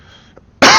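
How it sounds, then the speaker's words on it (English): A single loud, close cough bursts out abruptly near the end after near silence, from a narrator explaining a space game tutorial. "My apologies for the coughing."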